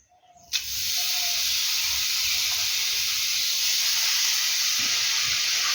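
Cut raw mango pieces drop into a hot wok of oil with a sudden burst of loud hissing sizzle that settles into a steady, close, continuous frying hiss.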